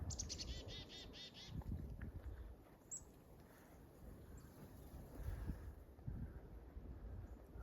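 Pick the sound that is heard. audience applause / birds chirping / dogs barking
birds chirping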